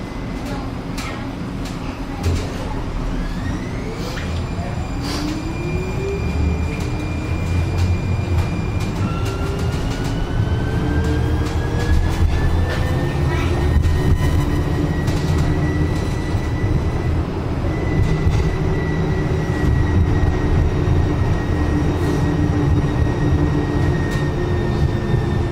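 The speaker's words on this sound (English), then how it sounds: "The doors are closing. Train departing." A red-line airport metro train pulls away from a platform, its traction motors whining upward in pitch over a rising rumble and rail noise, steady and close throughout.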